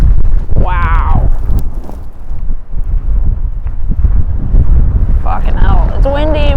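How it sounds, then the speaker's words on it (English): Strong wind at Alcatraz roars against the microphone in heavy low gusts, with short bursts of voices at the start and end. "It's windy, man."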